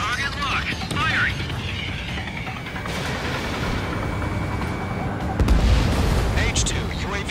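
Aircraft guns firing in the Ace Combat 7 flight combat game, heard as continuous rumbling bursts under a steady roar of jet engine and game sound, with radio voices talking over it.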